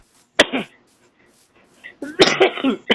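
Two sharp coughs, one short and a second fit of several harsh bursts a moment later, loud and close.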